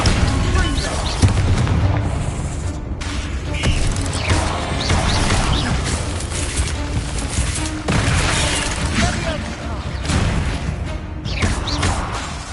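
In the video game Hogwarts Legacy, the Bombarda explosion spell and other combat effects produce heavy booms, crashes and magical whooshes that stay dense and loud throughout, with a voice speaking over the battle.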